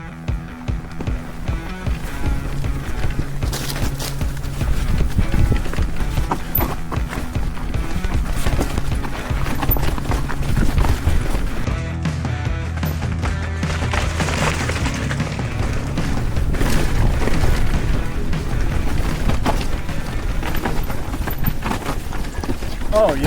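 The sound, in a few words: e-bike with coil shock riding down rocky technical trail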